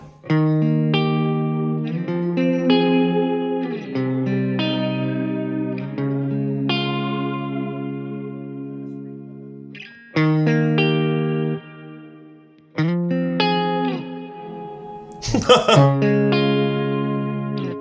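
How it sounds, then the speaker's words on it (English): Guitar chords through a Mooer Ocean Machine pedal drenched in a swirling, flanged reverb, sustained notes sweeping and shimmering as they fade, with a few pauses between phrases. "It's got flanged reverb."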